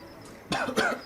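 Two sharp, close coughs in quick succession after a short quiet pause, the second slightly louder and harsher.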